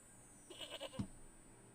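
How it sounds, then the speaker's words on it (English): A sheep bleats in a video game, one short, faint, wavering bleat preceded by a soft clatter, with low background ambience and no talking. "What was that sheep sound?"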